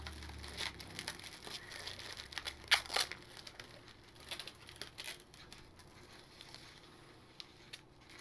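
Plastic shrink wrap crinkles and crackles as it is peeled off a Mondo Steelbook Blu-ray, quiet, close, irregular bursts of rustling that continue throughout.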